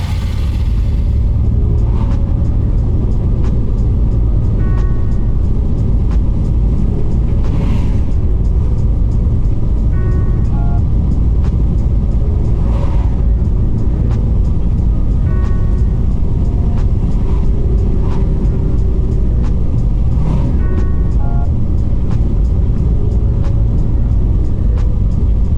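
An 80 Series Land Cruiser on a test drive with newly upgraded suspension gives a steady, loud cabin rumble of engine and road noise throughout, with faint clicks and small rattles now and then.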